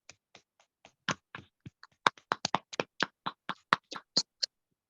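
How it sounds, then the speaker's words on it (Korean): Scattered hand claps from a small congregation at a Korean missionary dawn prayer service, crisp and close, starting sparse and irregular, then building into quicker, louder clapping in near silence. "우리 박수로 환영하겠습니다."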